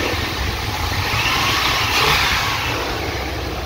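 A 1991 Chevrolet Cheyenne with a 350 Turbo Fire V8 and its air-cleaner lid flipped over revs up close and loud, a continuous throaty roar with intake rush that swells slightly midway, with no voices.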